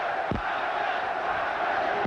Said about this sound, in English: Now the crowd begins to implore Tyson